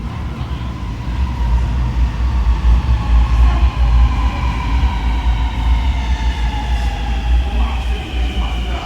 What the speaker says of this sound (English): The train to Talwell is going to enter platform number 4